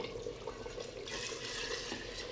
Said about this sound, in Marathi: यात आता आपण गरम पाणी टाकून घ्यायचं आहे